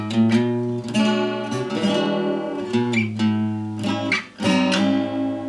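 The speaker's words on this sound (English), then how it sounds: "I'll give you an example of how this thing sounds tuning it once" A twelve-string guitar, freshly strung and tuned once, strummed repeatedly, its shimmering, chorusy, slightly sour chords ringing out of tune with brief breaks between strums.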